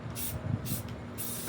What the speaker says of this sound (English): Now, let's start spraying our space.